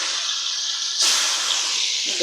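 Fish pieces dropped all at once into hot oil in a wok give a loud steady hiss that swells into a stronger sizzle midway, close and continuous.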